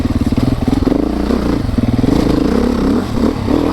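A 2024 Beta 390RS dirt bike rides trails at a steady, loud, close engine drone with a rapid low thrum, holding a constant pace with a slight dip near the end.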